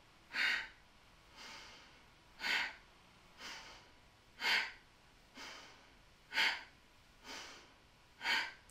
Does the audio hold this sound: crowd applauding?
no